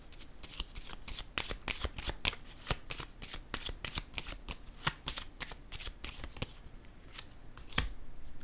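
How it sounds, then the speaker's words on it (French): Tarot cards are handled and laid out during a card reading, producing quick, faint papery flicks and snaps in irregular clusters at close range, with no voices. "Je vais déposer une autre carte pour ces trois-là, là, ici."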